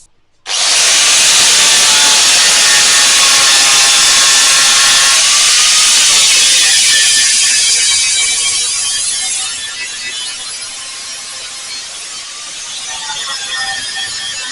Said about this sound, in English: I'll grind them down and we're pretty much done.